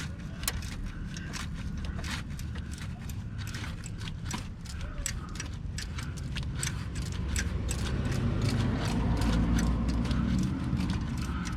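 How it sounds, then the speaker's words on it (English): A ratchet working bolts on the EGR valve of a Jeep Wrangler, rapid close clicking in quick repeated strokes over a steady background rumble, with no speech. "Much better with a ratchet than a wrench, I'll tell you that."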